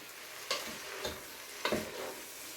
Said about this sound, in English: I'm just going to add the pasta to the mix